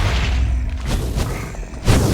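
Explosions go off during a Minecraft mob battle in the video game, a dense run of loud booming thuds and blasts, several distinct bursts close together over continuous rumbling.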